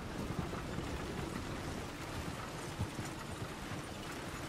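Horse hooves clip-clop on a road while pulling a wagon in Red Dead Redemption 2, a steady, fairly faint patter of hoofbeats over continuous rumbling noise.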